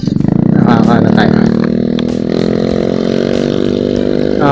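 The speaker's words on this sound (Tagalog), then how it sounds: "At sarap ng harurot." A motorcycle engine revs hard and loud, holding a steady high-pitched drone that climbs and settles, recorded up close while riding outdoors.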